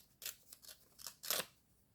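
Scissors snip through paper for a collage page, four or five short crisp cuts in quick succession, close and fairly quiet.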